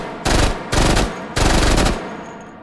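Three sustained bursts of automatic fire from a Mac-10 machine pistol in the VR shooter H3VR, loud and close, each lasting about half a second with brief pauses between.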